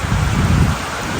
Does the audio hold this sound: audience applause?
no